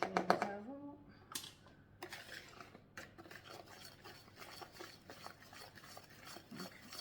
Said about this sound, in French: on va mélanger petit à petit en fait